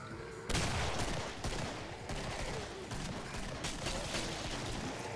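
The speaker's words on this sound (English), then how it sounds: "First shot of the game, slow motion." Slowed-down gunshot in the Killing Floor co-op shooter, a loud burst of noise that swells and rolls on as a long, dense, roaring wash with pulsing gunfire texture, without talk.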